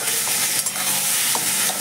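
Taro leaves (kochu shak) stirred in a hot pan, a continuous close sizzle with soft scraping strokes from the spatula.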